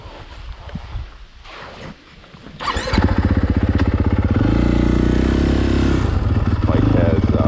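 A 2020.5 KTM 450 Factory Edition dirt bike, stock engine, ready for a woods trail ride; after a few seconds of wind and handling noise the engine fires and settles into a loud, rapid, close idle.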